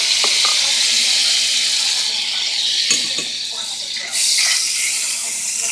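Butter sizzles in a hot pan as a steady, close hiss, with a few faint clinks and stirring sounds partway through.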